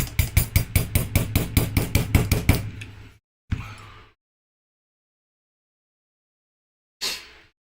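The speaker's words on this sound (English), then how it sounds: "I just want to hit it with the hammer." A hammer taps a lanyard tube into a knife: a fast, even run of about fifteen sharp metallic knocks, close and loud. A few single blows follow, with long silent gaps between them.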